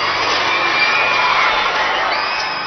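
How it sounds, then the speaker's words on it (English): Crowd in St. Peter's Square applauding and cheering before Pope Francis delivers his Christmas message, a dense, steady roar of clapping and voices heard from a distance and filling the whole moment. "Applause rings through St."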